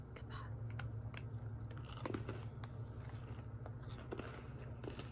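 Iced animal cookies crunch and get chewed close to the mic in a steady run of small crisp bites over a low hum, with a voice heard faintly at times.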